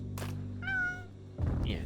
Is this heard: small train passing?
no